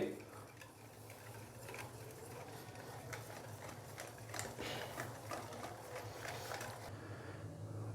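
Chicken pakora batter of gram flour and cornflour stirred in a bowl, faint repeated scraping and wet mixing strokes in a steady rhythm under a low background hum.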